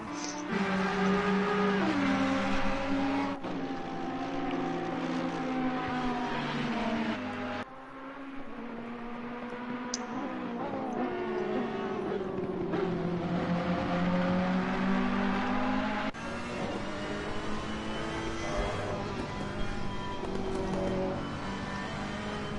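GT3 race cars in a racing video game, including a Lamborghini with a 5.2-litre V8, roar and rise through the gears, repeatedly revving up and shifting down in loud sustained engine sweeps, with no talk.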